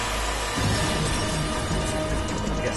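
Glass shattering in the Metal Gear Solid V video game, a loud sudden crash followed by a dense spray of breaking and scattering fragments that fades out over a couple of seconds.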